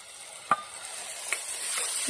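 Chopped green garlic and tomato go into onions frying in a pan for Rajasthani sev usal, giving a soft steady sizzle with a few sharp spoon knocks while stirring.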